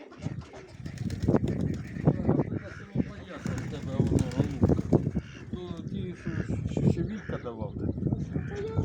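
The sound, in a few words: pigeons cooing and flapping wings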